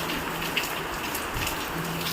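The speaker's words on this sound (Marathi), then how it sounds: "मस्त पाऊस येतोय।" Steady rain falls outdoors as a dense, even patter of drops hitting surfaces, close and continuous throughout the short stretch.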